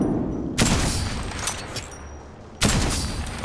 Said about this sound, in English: Thanks for the covering fire.